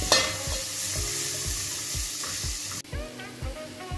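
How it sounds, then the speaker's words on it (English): Onions frying with ginger and garlic in a pot, a bright constant sizzle with regular rhythmic stirring strokes about twice a second, close and without voices. "I'll add in my ginger and my garlic so that they cook together as I wait for the onions to turn brown"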